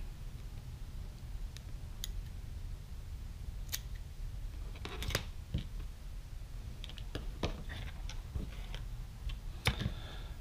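Small plastic parts being trimmed away from a 1/64 scale model silage trailer kit, giving a series of quiet, sharp snips and clicks spread unevenly through the stretch over a low steady background hum.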